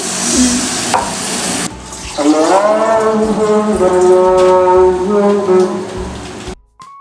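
Potatoes fry in a pan while water is poured in, a steady hiss and bubbling sizzle that runs close and loud until it cuts off near the end, with harmonic whistling tones layered over it.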